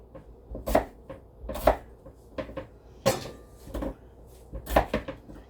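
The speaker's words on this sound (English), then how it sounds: "And we cut them small so they cook a little faster." Unpeeled potatoes are cut small on a board for mash, giving a series of distinct knife chops at an irregular pace, close and fairly loud with quiet gaps between strokes.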